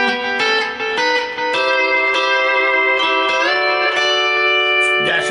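Lap steel guitar notes slide and step down toward a C, sustained twangy tones ringing clearly one after another with no talk over them.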